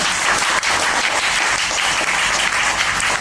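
Audience applause fills a live acoustic guitar show at a small coffee venue in Naha, Okinawa, a steady dense clapping that stays loud and even throughout with no talk over it.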